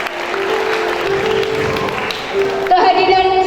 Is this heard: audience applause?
yes